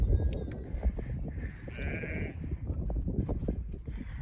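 Several sheep bleat close by around a grain feeder on a farm, overlapping calls over steady rustling and shuffling, with one longer bleat standing out in the middle.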